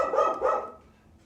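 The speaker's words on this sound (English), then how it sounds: "She always starts barking." A dog gives two quick barks close by, then the sound fades into near silence.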